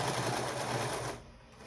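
A sewing machine runs a quick backstitch at the end of a dress seam, a fast close mechanical whirr of stitches that cuts off abruptly near the end, leaving quiet room tone.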